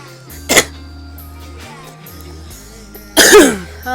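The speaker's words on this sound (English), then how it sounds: "I'm sorry for coughing in the mic" Two coughs land close into a microphone, a short one early and a harsher, longer one near the end, with quiet background between them.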